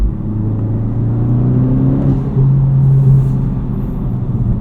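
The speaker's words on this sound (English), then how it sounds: "That extra vibration, that extra engine noise you get from the PRL mount" A Honda Civic Type R FL5 fitted with a PRL motor mount accelerates up close, its engine droning with a deep, rising rumble and a brief gear change midway, loud and alone.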